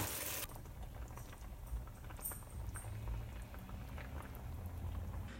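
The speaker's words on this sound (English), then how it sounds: "while the chicken is simmering on the stove" Hungarian chicken paprika simmers in a pot on the stove, a soft continuous bubbling and popping close by, low and steady with no voices.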